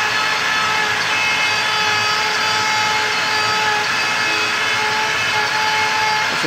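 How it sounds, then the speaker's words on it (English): A CNC router spins a 1/4 inch end mill cutting an 1/8 inch deep pocket into a wooden sign, a loud steady high-pitched whine with a grinding cutting texture, close and continuous. "It's an 1/8 inch deep pocket with a 1/4 inch tooth flute end mill."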